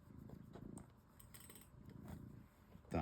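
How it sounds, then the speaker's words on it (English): A kitten purrs softly and close, a faint rhythmic rumbling that rises and falls in steady cycles, ending with a brief louder rustle. "My angry kitten."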